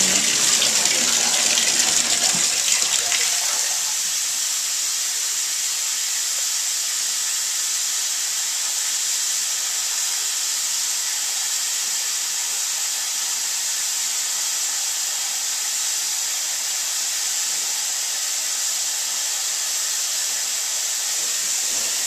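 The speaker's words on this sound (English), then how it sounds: "Tub drains good." Water drains from a bathtub in a house on 7th Street in Englewood, heard as a steady loud hiss and rush, louder and rougher in the first few seconds, then even and continuous.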